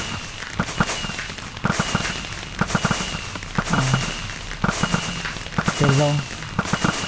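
Fireworks on New Year's go off in a rapid string of sharp cracks and bangs that keep popping at close range, with a person speaking briefly over them.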